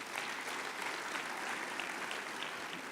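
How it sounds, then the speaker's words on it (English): Steady applause from an audience at a University of Johannesburg strategic plan launch, a dense wash of clapping that holds at an even level throughout. "a round of applause to you"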